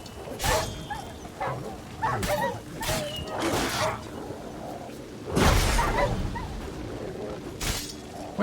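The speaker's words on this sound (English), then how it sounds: "Got a lot of dogs." Several dogs barking and yipping in The Witcher 3: Wild Hunt, sharp repeated bursts scattered through the clip, with a louder cluster midway, over rustling game ambience.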